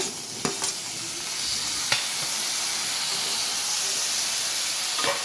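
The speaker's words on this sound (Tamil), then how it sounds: "தக்காளி போட்டதும் நல்லா மேஷ் ஆகிற அளவுக்கு வதக்கணும்" Tomatoes sauté in a pan for veg keema masala, giving a steady, close hiss of frying with a few sharp spatula clinks against the pan, no voices.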